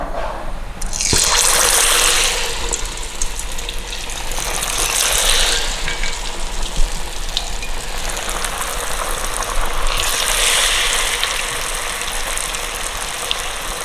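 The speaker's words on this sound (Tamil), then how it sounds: "எண்ணெய் காஞ்சிட்டு நாங்கள் இப்போ ஒன்றுண்டா துவச்சி பொரிப்போம்" Paniyaram batter made with green gram frying in hot oil in a home kitchen, a steady close sizzle and crackle that swells in bursts at the start and again near the end, with no talking.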